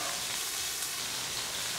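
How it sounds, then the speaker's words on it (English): Peppers and onions sizzle in a hot pan, a close, steady crackling hiss that holds at an even level throughout, with no talking over it. "My peppers are sizzling away in the pan"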